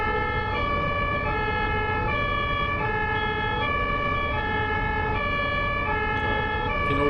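An ambulance siren wails continuously on a German highway, its two-tone pattern alternating steadily and loud throughout, over the constant rumble of road traffic from inside a moving car.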